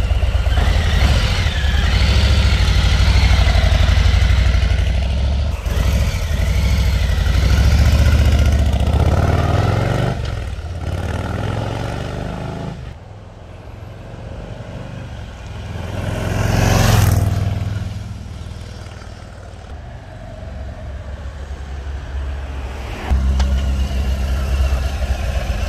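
A brand-new 2022 Harley-Davidson Low Rider ST (FXLR-ST) motorcycle rumbles loudly nearby, fades and returns as it passes in a drive-by with a rising surge around the middle, then settles into a deep, throbbing idle-like rumble.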